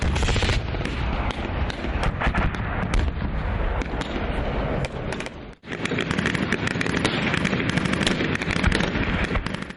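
Gunfire from a 7th motorized rifle brigade's military training firing exercise: dense, continuous bursts of loud shots and booms run for about ten seconds, pausing only briefly halfway through.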